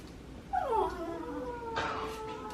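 A tiny kitten snarling at a dog, a drawn-out, sliding growl-yowl that rises and falls, then carries on as a long, thin wail, close and fairly loud.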